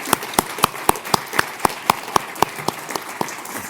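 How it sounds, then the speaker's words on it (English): Sparse clapping from a panel audience welcoming a speaker: distinct, evenly spaced claps in a steady rhythm, sounding like only a few people, moderately close and with no talking over it. "Big round of applause."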